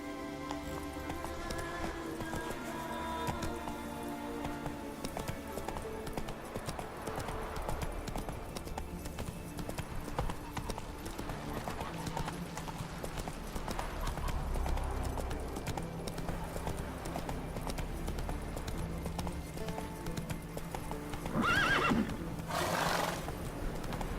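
Roach, a horse in The Witcher 3, gallops with steady, rapid hoofbeats over a layered game soundtrack, and a whinny rises near the end.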